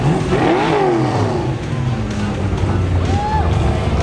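Custom cars from the SEMA show roll out on a cruise, engines revving and passing continuously at close range with a steady wash of traffic noise.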